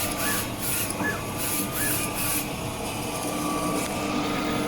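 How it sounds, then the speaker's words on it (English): A Focus Nebula 42F DTF printer prints calibration lines, its print head carriage rubbing and whirring back and forth in steady repeated passes with short bright bursts, close and continuous. "and then the printer starts to print again"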